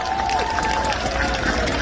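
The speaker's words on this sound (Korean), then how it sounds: "김민서 청년 큰 박수 부탁드리도록 하겠습니다." Crowd applause at an outdoor presidential election rally in the square in front of Gumi Station, a dense steady patter of many hands with scattered voices, continuing evenly throughout.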